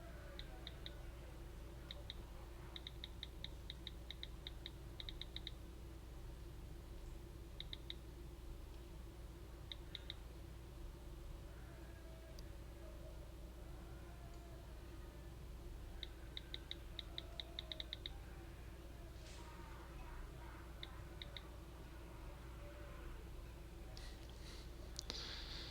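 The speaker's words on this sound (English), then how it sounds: "some work things I need to just type out real fast" Fast typing on a computer keyboard in bursts of quick, faint clicks separated by pauses, over a steady low hum of background noise.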